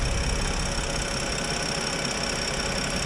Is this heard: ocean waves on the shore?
no